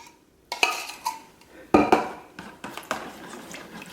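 A utensil stirs a homemade hand sanitizer mixture with aloe vera in a bowl, making a series of irregular clinks and scraping taps against the container, close and moderately loud, with faint voice traces.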